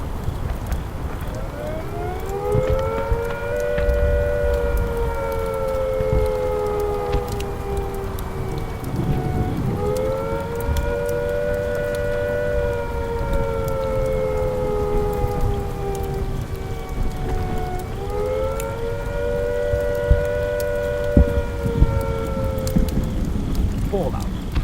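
A civil defense siren from a vintage nuclear test film sounds its attack warning, a wavering tone that rises and falls through about three long cycles over a steady rain-like hiss.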